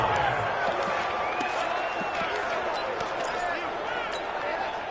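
Stadium crowd noise from a PS4 football video game swells steadily as a big third down approaches, a dense roar of cheering with scattered whoops carrying on without a break, loud and close throughout.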